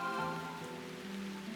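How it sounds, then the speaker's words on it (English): Rain falls steadily on an outdoor street in the game Root Letter, a soft continuous patter with a faint tonal background, growing heavier, with no one talking. "well, crap, the rain's getting worse"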